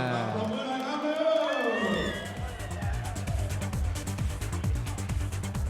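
A crowd cheers at a Muay Thai bout, roaring and whooping near and loud before settling into rhythmic shouting under an excited commentator's voice.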